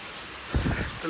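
Steady rain keeps falling outdoors, a soft continuous patter on surfaces with a brief fuller burst midway, heard alone without voices.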